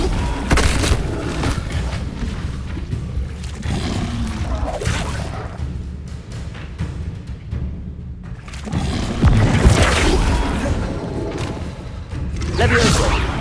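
A Flipendo spell cast in Hogwarts Legacy gives a booming whoosh and thud, one in a series of spell impacts amid continuous game sound and effects.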